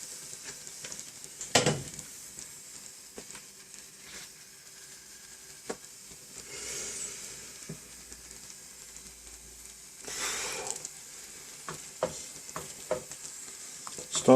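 Vegetables stir-fry in a pan over a gas bottle burner for hot and sour soup, a low steady sizzle broken by scraping stirs and sharp clatters of the utensil against the pan, close and alone.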